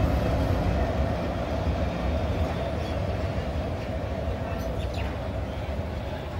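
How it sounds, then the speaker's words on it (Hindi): A train rumbles at the platform of Gandhidham railway station with a steady, broadband rolling roar and faint clatter. The sound stays loud and continuous, with a few faint high chirps above it. "આપણી ટ્રેન આવી ગઈ છે।"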